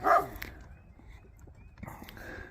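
A dog on a goat farm lets out a single loud bark near the start, followed by quieter low rustling and faint background sounds.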